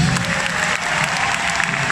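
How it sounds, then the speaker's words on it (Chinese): Audience applause at a live pop concert, dense and loud clapping from a large crowd that holds steady for the whole stretch. "掌声鼓励，谢谢。"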